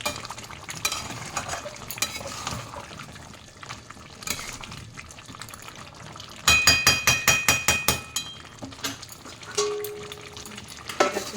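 Dak bungalow chicken being stirred in a pot on the stove, with steady scraping and stirring strokes over a soft background sizzle, then a burst of rapid rhythmic clinks from the spoon against the pot near the middle.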